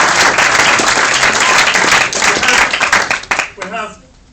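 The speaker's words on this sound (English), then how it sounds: "I think they certainly deserve a nice round of applause" Wedding guests break into a loud round of applause, dense clapping from a crowd that holds steady and then thins into scattered claps before fading out.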